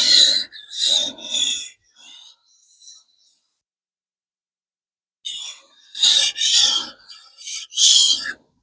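A knife blade rasps across a sharpening stone in a run of broadband strokes, pausing briefly before another quick series of close, scraping passes.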